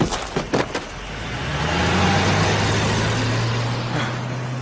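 Cars in a radio-drama chase with a limousine screaming round a corner: a few sharp knocks open the scene, then a loud engine swells and holds a steady roar to the end, with no speech.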